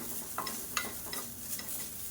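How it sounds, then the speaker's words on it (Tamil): Grated coconut lightly roasting in a pan while being stirred for a Tamil kuzhambu, with soft scraping strokes over a faint, steady sizzle, quiet and close, with no voices. "இந்த தேங்காயை போட்டு லேசாக ஒரு பரட்டிக்கலாம்"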